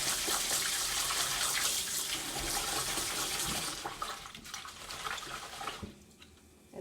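Japanese short-grain sticky rice being rinsed in a bowl under a running tap, a steady close splashing wash of water that eases off near the end.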